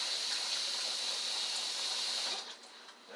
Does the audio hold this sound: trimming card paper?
no